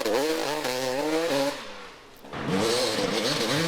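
A Husqvarna enduro motorcycle at a national enduro race sweeps past close by, its engine note rising and falling in pitch through gear changes, fading briefly mid-pass before a second loud revving surge returns.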